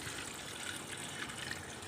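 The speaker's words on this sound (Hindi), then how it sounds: "पीने के अनुसार इसमें हम पानी ऐड कर देंगे।" Water pours steadily into a homemade guava leaf cough remedy, a continuous close splashing gush that holds the same level throughout, with no talking.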